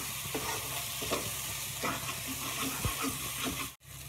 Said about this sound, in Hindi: दो मिनट मसालों के साथ भी हम इनको पका लेंगे